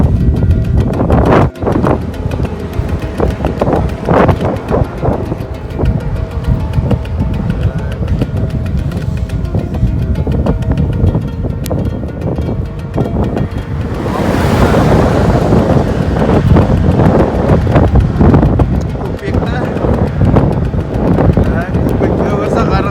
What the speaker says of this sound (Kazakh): Жел тұр, маңдайдан жел